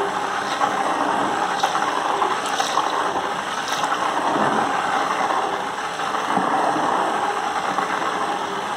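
An electric mixer whirs steadily through a mixture of tallow, oil and rice soap, giving a continuous droning motor sound with faint sloshing, close by and with no voices.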